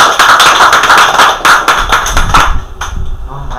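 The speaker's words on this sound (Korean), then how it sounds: "이렇게 열광을 해주신 우리 한상훈 컨설턴트님께 박수로 한번 드립니다." Applause at a Korean business forum lecture for a consultant: loud, close clapping from a small crowd with brisk rhythmic hand strikes, tapering off in the final second.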